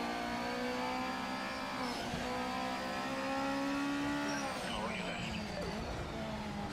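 Race car engines from the Project Motor Racing game, a field including a 4-cylinder 2-liter turbo, Honda Civics, a Honda NSX and a Nissan Z, roaring and shifting continuously through the whole stretch, under a commentator's talk.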